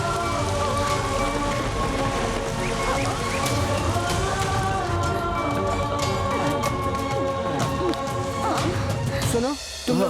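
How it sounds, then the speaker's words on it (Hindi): Heavy rain pours steadily and loud at night, a dense broadband wash that holds throughout, with music and faint voices layered over it. "अचानक इतनी बारिश कैसे हो गई यार?"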